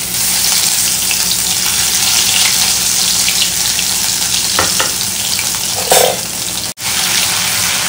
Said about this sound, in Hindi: और इसके बाद अब मैं डालूँगी 1 सवा चम्मच के करीब जीरा, और थोड़ा सा हींग।